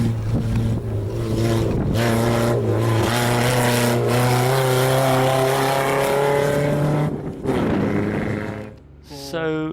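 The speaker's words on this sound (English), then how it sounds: "we kind of lost the exhaust, took it off the manifold" A stock Toyota RAV4 rally car roars along a rally sprint stage with its exhaust torn off the manifold. The engine blares loud and raw, holding steady revs, then lifts off and snaps back up near the end.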